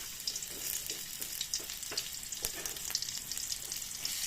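Onion sautés in a hot pan for a shrimp and crab coconut-milk dish, a steady frying sizzle with crackles and stirring scrapes, close and moderately quiet, without talk.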